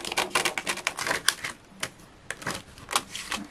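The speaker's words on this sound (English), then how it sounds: "then with the acetate we're gonna score at 1/2 inch just to give us that flat for gluing it onto our card" Close, crisp repeated clicks and scraping strokes as a scoring tool presses a line into an acetate sheet on a scoring board, in quick bursts with brief pauses.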